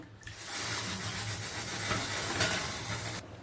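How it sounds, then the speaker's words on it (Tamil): Steady hissing, bubbling simmer of a fish curry boiling in a pot, continuous and close, with a soft sizzle throughout and no talking. "இந்த மீன் குழம்பு நல்லா கொதிக்க ஆரம்பிச்சிச்சு"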